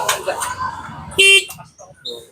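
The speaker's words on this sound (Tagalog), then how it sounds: "May busina siya, gumagana yung busina." A short vehicle horn toot sounds briefly in the middle, amid people talking before and after.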